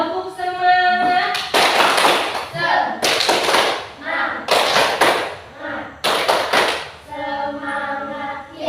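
A classroom group does a rhythmic spirit clap, four bursts of quick patterned claps and slaps in unison alternating with voices chanting between them.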